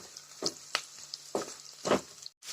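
Onions and cashews sautéing in a pan, soft irregular sizzles and stirring scrapes in short bursts over a quiet background, close by, no voices.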